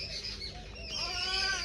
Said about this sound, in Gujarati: જો ચકલા ખૂબ બોલી રહ્યો.